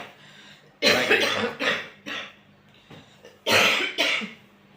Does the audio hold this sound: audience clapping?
no